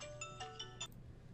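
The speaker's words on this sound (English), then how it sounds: "excuse the cell phone interruption." Cell phone ringtone, a faint melodic chime of quick repeated tones over low background hum.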